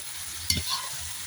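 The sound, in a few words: stirring chickpeas and minced meat frying in pan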